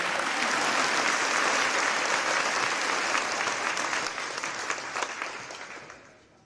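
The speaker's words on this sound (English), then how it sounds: "go ahead and cheer for him" A high school graduating class assembly applauds and cheers loudly, dense clapping sustained for several seconds before gradually tapering off.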